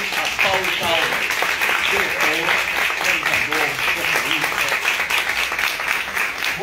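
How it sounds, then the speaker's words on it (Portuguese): Audience applause after a film screening and debate at the 25th Festival do Rio, dense sustained clapping from a large crowd filling the room, with a voice faintly beneath. "primeiro, uma salva de palmas ao filme"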